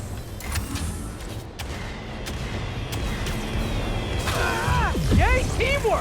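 Bomb explosions in the video game Marvel's Spider-Man, dull rumbling blasts layered under continuous game effects and a rising whooshing sweep near the end.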